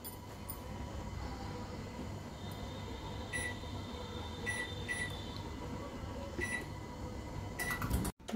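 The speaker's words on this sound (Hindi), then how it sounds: "देखिए, हमारा माइक्रोवेव प्रीहीट हो चुका है।" A microwave oven runs in convection mode while finishing a 200-degree preheat, a low steady hum under a few short high beeps spread through the middle, then a clunk near the end.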